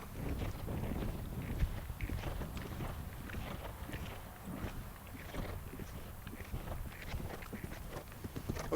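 A horse galloping in a riding lesson, a steady muffled drumming of hooves on soft ground under constant background noise, moderately distant and faint.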